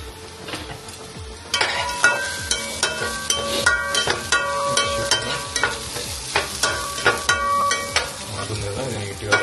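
Food fries and sizzles steadily in a hot pan for a couple of minutes of home cooking, with repeated stirring scrapes giving a loose rhythmic pulse over the continuous crackle, close and fairly loud with no talking.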